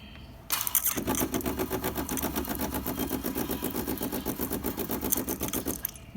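A DeLonghi espresso machine dispenses hot water, a steady pulsing buzz of its pump, starting abruptly and stopping near the end, loud and close.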